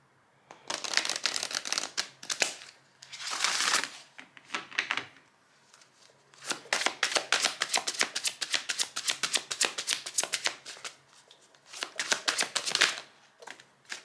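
Tarot cards being shuffled and drawn, bursts of rapid riffling and flicking close by in several separate rounds with short pauses between, no voices.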